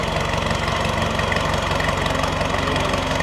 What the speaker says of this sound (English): Just listen at that. He didn't even have to open the tractor up.